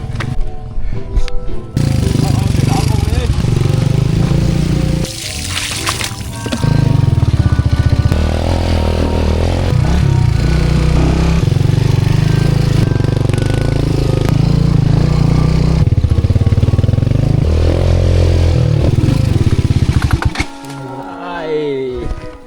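A loud motorcycle engine drones and rumbles steadily for about twenty seconds, rising and falling slightly, then cuts off near the end.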